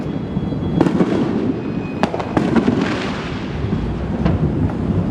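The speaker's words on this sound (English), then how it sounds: "In all the chaos of the fireworks" Fourth of July night fireworks and bottle rockets crackle and boom along Beach Boulevard in Orange County, with several sharp bursts over a continuous rumbling, chaotic background of distant explosions.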